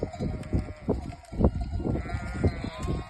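Sheep and lambs bleat repeatedly in a close flock in a village setting, with several overlapping calls of varying pitch and faint voices in the background.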